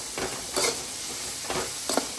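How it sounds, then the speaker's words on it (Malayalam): Cleaned prawns fry in coconut oil with a steady, close sizzle, broken by a few brief bursts of stirring and scraping at regular intervals. "ചെമ്മീൻ നല്ലോണം നന്നാക്കി കഴുകി വാരി വെള്ളം വാഴ്ത്തി വെളിച്ചെണ്ണയിൽ വറുക്കണം."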